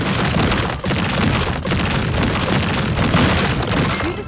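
Loud, dense crashing and booming of a portal being destroyed in the Minecraft Legends video game, a continuous barrage of impacts and rumble with brief dips, no talking.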